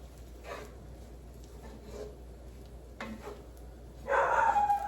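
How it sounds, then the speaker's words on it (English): A dog barks a few times at a distance, then a louder burst near the end, over quiet room noise. "Probably barking at the mailman."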